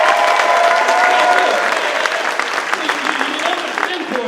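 A dense burst of audience applause at an improv show fills the space, loud and steady at first, then thinning slightly as the clapping continues with a crowd murmur.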